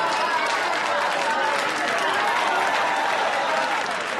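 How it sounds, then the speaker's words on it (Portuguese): An audience applauds an actress being honored at the 5th Aruanda Film Festival, dense, steady clapping that fills the whole stretch at full strength, with crowd noise mixed in and no voices over it. "Palmas pra ela!"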